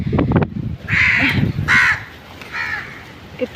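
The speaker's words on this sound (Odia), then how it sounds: "କେତେ କାଉ" Several crows caw loudly nearby, harsh calls repeating in a loose rhythm over a few seconds, with faint background chatter and movement outdoors.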